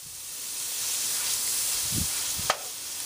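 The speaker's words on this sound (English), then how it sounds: "I'm just moving it around in the oil until it thaws" Frozen pesto sizzling in hot oil in a pan, a steady close hiss with a few soft stirring bumps and one brief sharp clink near the end.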